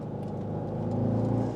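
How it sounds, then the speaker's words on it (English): Bentley Continental GTC V8 engine revving hard under acceleration, a loud, steady deep drone heard from inside the car that builds slightly over its short span, with no talk over it. "Yes, now that V8's loving it."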